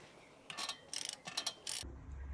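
A torque wrench tightens carburettor manifold nuts on an Austin Metro, giving several short, quiet ratcheting clicks in quick bursts that end with a low rumble.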